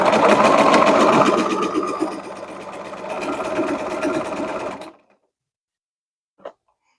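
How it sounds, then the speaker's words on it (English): A sewing machine stitches a pillowcase seam, reversing to anchor it and then sewing over the same stitches, a loud, close, rapid mechanical whir that runs for about five seconds, then stops. A brief faint click follows. "I'm going to anchor my seam here by reversing, and then I'm just going to actually stitch right on those same stitches"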